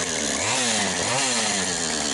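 A chainsaw cutting firewood roars loud and close without a break, its engine pitch dipping and rising under load as the chain bites into the wood.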